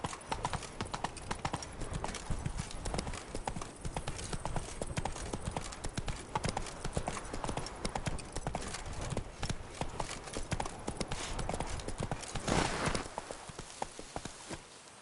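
A horse's hooves clip-clop in a quick, steady rhythm in The Witcher 3, close and continuous for the whole stretch, with a brief louder burst near the end before the hoofbeats fade.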